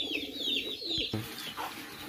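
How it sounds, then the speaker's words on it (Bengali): Kachuri pigeons coo softly in a short, close burst, with some chirpy overtones and a faint rustle that could be wings. "এবার আমি এক পেয়ার কাচুরি কবুতর দেখাবো"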